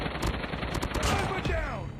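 Sniper and rifle fire in a shooter video game comes as loud, close bursts of rapid shots, ending in a brief whistling sweep.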